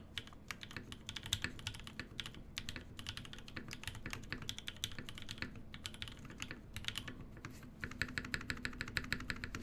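Dense, steady clacking of keystrokes on a custom Fjell mechanical keyboard, fast typing with crisp repeated key hits and no talk.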